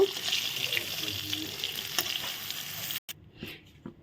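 Eggplant slices frying in hot oil give a steady close sizzle for about three seconds, then a brief break as pieces are lifted out, followed by a softer sizzle.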